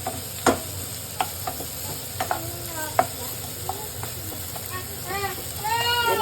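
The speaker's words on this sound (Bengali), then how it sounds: "এটাকে ভালোভাবে ভেজে নিতে হবে।" A paste of cumin, ginger and garlic fries in a pan for fish curry, with a steady sizzle under scattered spoon scrapes and clinks. Short bursts of hissing come near the end.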